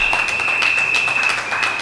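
Audience applause for three councillors at a community gathering, a steady wash of clapping filling the whole stretch at moderate level with no talk over it.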